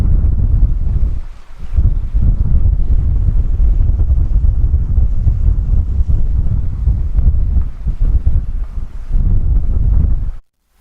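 A sailboat running under jib alone through the San Juan Islands toward Roche Harbor, with a loud, steady rush of wind buffeting the microphone over water noise that continues unbroken until it cuts off at the end. Nobody speaks.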